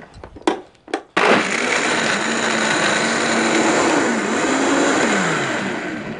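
A few sharp knocks come first, then a Vitamix blender starts with a sudden roar. It keeps up a loud, steady high-speed whir close by, with slight shifts in pitch as it runs.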